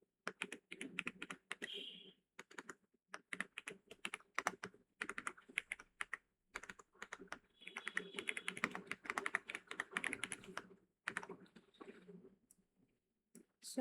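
Someone types a number on a computer keyboard in quick, uneven bursts of soft key clicks with short pauses between, close by and fairly quiet.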